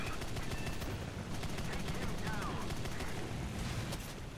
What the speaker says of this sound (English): it's that P-51 shooting me, right?